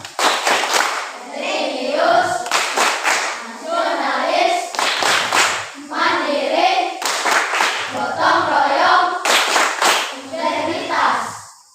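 A class of schoolchildren clapping a rhythmic pattern together in a classroom, with sharp bursts of claps in repeated sequences between loud chanted group voices, close and energetic throughout.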